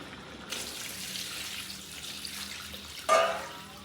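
Water pours into a cooking pot for a sour chicken soup, a short hissing stream followed by a louder splash near the end.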